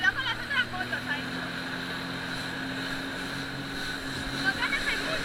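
Jet ski engine droning out on the water off Alicante, a steady motor hum with tonal whine and wind buffeting the microphone, while a voice talks briefly over it.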